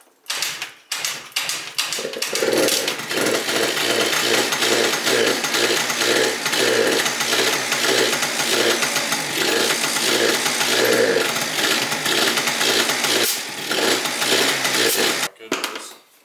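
A rebuilt Yamaha BWS 70cc two-stroke scooter engine catches after a couple of brief cranking attempts, then runs steadily and loudly near at hand with a rhythmic buzzing pulse for about thirteen seconds before cutting off.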